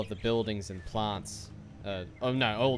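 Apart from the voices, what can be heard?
No everyday noises stand out.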